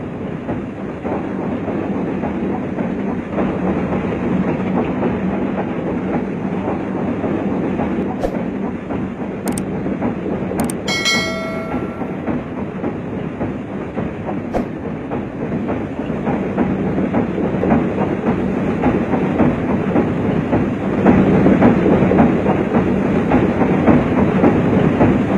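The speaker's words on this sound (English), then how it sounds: "We followed this ailing giant from Titjalenka to Cibatu" A DD-52 steam locomotive pulls a train along an Indonesian railway, its steady rumble and rhythmic clickety-clack of wheels running continuously and loudly, swelling slightly toward the end, with a few brief high squeals along the way.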